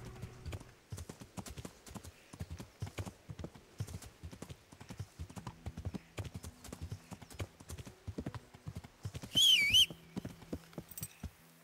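Horse hooves clip-clop steadily at a walking pace in the video game Kingdom Come: Deliverance, crisp, close and rhythmic, with a brief whistle near the end.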